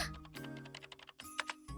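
Rapid keyboard typing from the Chaos;Child visual novel game: quick, uneven bursts of close keystrokes over a steady musical background, pausing briefly before resuming.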